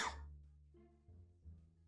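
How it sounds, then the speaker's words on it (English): A sudden coughing fit: one sharp, loud cough burst up front followed by quieter throaty hacks and strained voiced breaths, close to the microphone, with no speech. "something just like attacked my throat and I started coughing like crazy"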